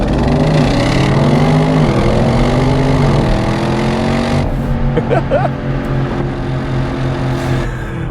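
A 2023 Audi RS6 Avant launches at full throttle, its engine note loud and close, rising as it pulls hard and continuing steadily through the run.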